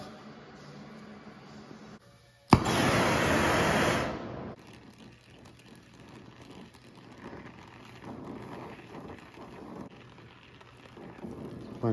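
A brazing torch heats an oil pan being shortened for a Subaru engine in a VW bus, giving a sudden loud roaring hiss that lasts about two seconds before dropping back to quiet shop background.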